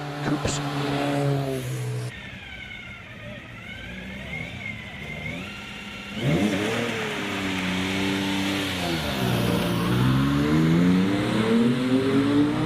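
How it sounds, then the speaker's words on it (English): A Scimitar coupe racing car's Ford Essex V6 engine revs and accelerates past at a hill climb, its harmonic pitch rising and falling through gear changes, loud and continuous. "Here's the line making lovely V6 noises of the Ford Essex engine."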